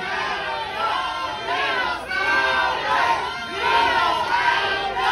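Audience at a costume contest in a karaoke patio in Chalco cheers and shouts loudly in swelling waves, a dense crowd roar with rhythmic surges rather than distinct clapping.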